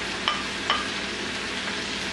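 Chopped tomatoes go into a pan of frying aloo gobi, a steady sizzle with two quick splashy bursts as they hit the hot oil, with no talking.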